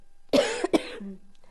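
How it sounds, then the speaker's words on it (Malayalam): A few harsh coughs close to the listener, two sharp bursts followed by a shorter rasp, then quiet. "ചുമ നിൽക്കുന്നില്ല അല്ലെ"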